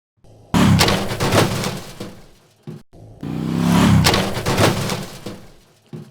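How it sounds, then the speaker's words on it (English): Sound effect of a metal trash can knocked over, two loud crashing clatters with rattling debris, each tailing off, separated by a brief silence. "I believe this is the sound of a trash can being knocked over."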